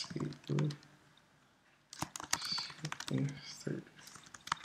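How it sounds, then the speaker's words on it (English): Typing on a computer keyboard comes in quick bursts of close, crisp key clicks with short pauses between them, while a person talks over part of the tapping. "what you want to do is just start typing disable"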